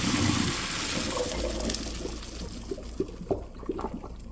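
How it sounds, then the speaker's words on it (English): Water pours out as cooked pasta is drained, a steady rushing splash that thins into trickles and drips toward the end, close and alone without talk. "Now let's go ahead and drain our pasta."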